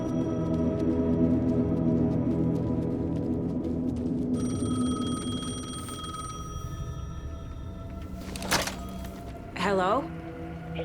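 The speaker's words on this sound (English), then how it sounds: "The payphone was ringing." A payphone rings in the video game Alan Wake 2, repeated electronic ring tones over a low droning ambient score, followed near the end by a couple of brief clunks as the receiver is handled.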